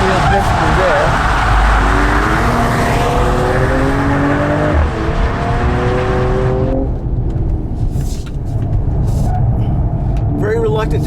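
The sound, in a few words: Mercedes-AMG CLS53 engine driving hard with understeer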